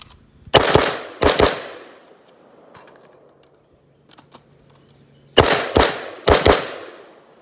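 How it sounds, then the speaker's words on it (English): An HK53 rifle fitted with a V-notch sight fires loud, sharp, close shots in quick pairs, two pairs together, then a few seconds of near quiet, then two more pairs. "let's do a little more shooting with the V-notch on the 53"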